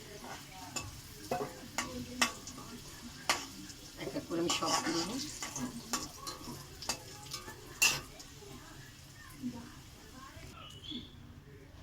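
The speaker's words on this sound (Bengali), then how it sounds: "তো মাংসটা আমার এখন আলু ভাজা হচ্ছে" Potatoes fry in oil in a pan for a meat curry, with a spatula scraping and tapping in irregular strokes beneath a soft sizzle, while someone speaks nearby.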